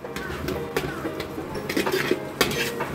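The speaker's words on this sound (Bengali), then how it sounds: "এরপর মশলাটাকে একটু ভালোভাবে মিশিয়ে নিচ্ছি।" A spoon mixing salt, turmeric and chili powder in a bowl, with close repeated clinks and scrapes of metal against the dish in an irregular rhythm.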